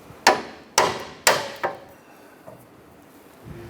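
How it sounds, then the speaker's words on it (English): A hammer strikes a steel steering knuckle on a 2008-2012 Honda Accord to free the outer tie rod: three sharp metallic blows in quick succession, then a softer fourth tap, close up. "We're going to use a hammer and we're going to strike our knuckle to go ahead and release our outer tie rod."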